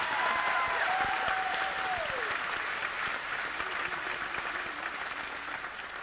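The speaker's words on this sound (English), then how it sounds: "Please join me in applauding their efforts both on and off the field." Sustained applause from a seated audience at a Centenary College of Louisiana commencement for the class of 2018, steady and full throughout, with a brief whistle and faint voices mixed in.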